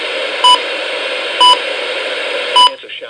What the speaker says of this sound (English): What's different with this one is the button beeps are louder.